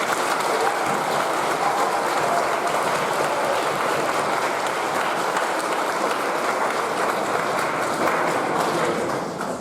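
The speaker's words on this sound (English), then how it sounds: "let's give them a round of applause" Dense, continuous applause from a large crowd at the Doane Stuart school's 2016 convocation holds at an even, full level for nearly ten seconds before tapering off slightly at the very end.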